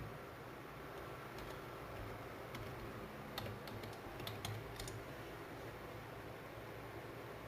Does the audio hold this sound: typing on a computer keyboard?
yes